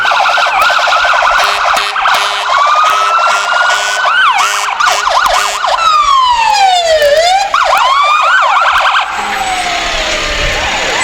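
Fire trucks and other emergency vehicles in a parade sound loud wailing and yelping sirens, several overlapping and sweeping up and down, close by.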